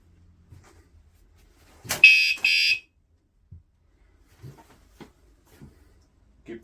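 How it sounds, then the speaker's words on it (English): A Cruxer USB-rechargeable electric bike alarm, mounted on a bicycle, emits a short, loud, shrill electronic burst of about a second in an otherwise quiet room, followed by faint handling clicks. "Gibt es einen kurzer Alarm."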